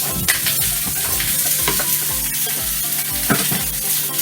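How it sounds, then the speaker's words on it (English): Sausage sizzles steadily in a hot pan with already-cooked potatoes and onions, punctuated by frequent scrapes and clacks of stirring; a dense, continuous frying crackle with no voices. "we are going to add the sausage into the pan"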